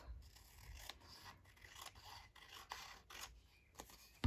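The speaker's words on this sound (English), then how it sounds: "I probably need to actually trim that off" Scissors trim the edge of a paper journal card in a series of quiet, close snips and rasping cuts, roughly one every half second, with no talking.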